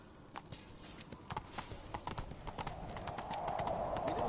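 Roach the horse galloping in The Witcher 3, a quick run of clopping hoofbeats that speeds up and grows denser toward the end, with a faint rushing noise building underneath.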